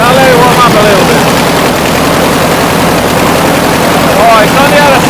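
A car engine recently converted to fuel injection idles steadily just after starting, a loud, close, even rumble with people talking over it.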